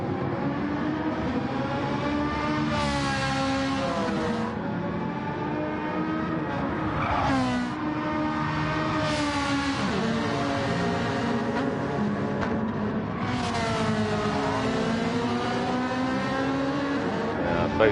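Gr-4 race cars, a Ferrari and a Honda, in Gran Turismo, engines screaming as they rise and fall through gear changes and pass by, loud and continuous with a faint commentator voice underneath.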